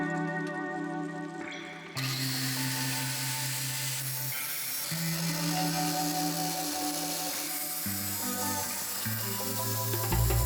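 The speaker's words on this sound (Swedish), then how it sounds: "det är lite svårt att såga när det är så här kanter" A motorized saw drones with a changing pitch, its tone dropping and rising as it cuts, loud and steady throughout.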